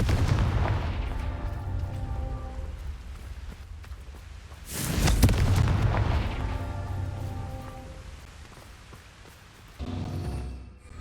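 Confringo blasting spells going off in the Hogwarts Legacy video game, several deep booming explosive bursts with a loud blast near the middle and another near the end, separated by rumbling decay.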